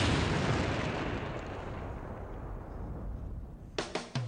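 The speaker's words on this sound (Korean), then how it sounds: "그러면 주요 폭발물들이 터지게 됩니다." A Bouncing Betty landmine detonates in a deep, roaring blast that rumbles and slowly decays, followed by a few sharp secondary cracks and pops at the end.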